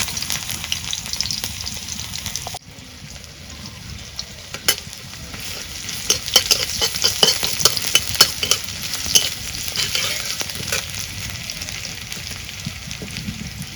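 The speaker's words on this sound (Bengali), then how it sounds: "তেল গরম হচ্ছে, এখন পেঁয়াজ কুচি দেই।" Chopped onion hits hot oil in a wok, setting off a sudden loud sizzle that continues crackling and popping, with stirring scrapes rising above it.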